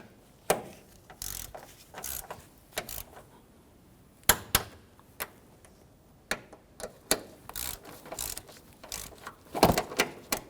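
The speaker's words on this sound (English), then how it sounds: "we're going to go ahead and torque down our 3 strut nuts here to 28" Ratcheting clicks from a torque wrench snugging down three front strut nuts under the hood of a 2008-2013 Infiniti G37, a series of sharp, close metallic ticks in irregular short bursts with pauses between, no talking.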